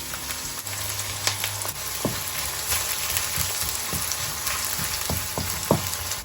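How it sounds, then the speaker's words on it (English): Chopped onions hitting hot oil in a pan, a steady close crackling sizzle with a few sharper pops and light clicks of stirring throughout, no talking. "The oil is hot enough, so I'll just add my chopped onions."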